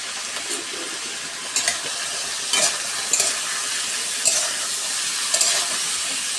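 Cauliflower and potato cook with salt and turmeric in a pan, with a steady hissing sizzle under a few distinct stirring scrapes and clanks, close and moderately loud.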